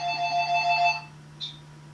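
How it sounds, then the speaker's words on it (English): An office telephone rings once with a bright electronic trill over a steady low hum, followed by a short faint chirp, with no one speaking. "My office line's ringing."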